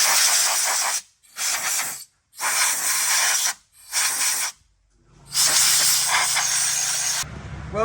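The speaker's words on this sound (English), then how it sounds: "I'm going to blow off the inside of the motor." Compressed air blasting out the inside of an old chainsaw motor: four loud, close hissing bursts separated by brief pauses, then a longer final blast over a low mechanical hum.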